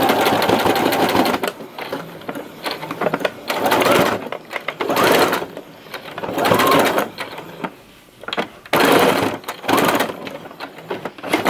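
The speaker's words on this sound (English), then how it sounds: "A horizontal stitch on the top and a horizontal stitch on the bottom." A sewing machine runs a horizontal stitch in several loud bursts of rapid mechanical chatter, separated by short pauses, close up with no talking.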